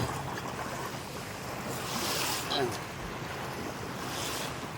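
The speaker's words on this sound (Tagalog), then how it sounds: "Ay, lakas na ng alon ngayon ah. Malakas ang alon no." Steady rush of heavy surf and wind noise on the coast at Bulan, Bicol, waves breaking continuously nearby with faint voices in the background.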